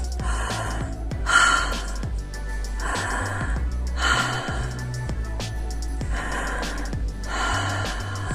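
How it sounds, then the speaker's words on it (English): Deep breathing, about three to four slow inhale-and-exhale cycles, heard up close over a steady low background with music-like tones. "I take 3 breaths."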